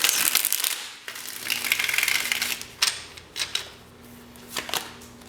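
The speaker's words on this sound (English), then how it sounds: "let me give this a couple more shuffles" Tarot cards being shuffled by hand, a run of crisp riffling flutters followed by several short separate snaps and taps of the deck, close and alone.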